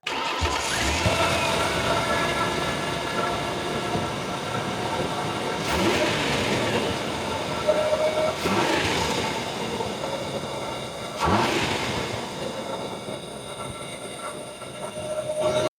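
A 4-liter V6 in a 54,000-mile Ford Explorer Sport Trac starts up and runs at a smooth, steady idle close by, with a couple of brief swells in engine noise along the way.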